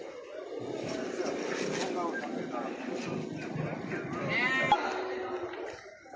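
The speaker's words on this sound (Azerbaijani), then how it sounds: "koza koyunlarımız var" Sheep bleat repeatedly nearby amid a flock's shuffling at a sheep, goat and cattle market in Maştağa, Azerbaijan, with voices talking over the noise.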